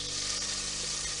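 A knob of butter and a little olive oil melt in a pan, a steady, close, hissing sizzle that holds evenly throughout.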